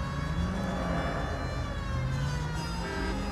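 A police car siren from the game LA Noire wails steadily throughout, its rising and falling tones loud and close over a rumbling engine, with no talking.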